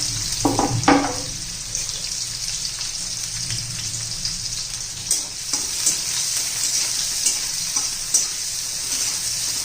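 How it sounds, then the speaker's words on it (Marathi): Onion sautés in a pan for misal, a steady sizzling fry broken by a few louder stirring knocks and scrapes near the start and later; no speech. "कांदा परतून घ्यायचा आपल्याला"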